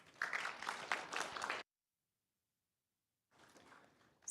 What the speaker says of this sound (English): We can give another round of applause